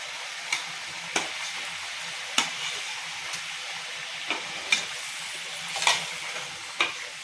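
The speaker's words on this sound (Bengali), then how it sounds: "ঝোল ফুটে গেছে আমি এবার মাছগুলো দিয়ে দিচ্ছি" Pieces of rui fish drop into boiling gravy for rui posto, making a steady close hiss and bubbling simmer punctuated by several sharp clinks and spatters, with no talking.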